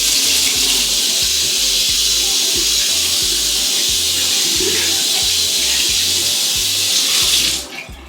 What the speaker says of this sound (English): I'm going to go ahead and turn the water on.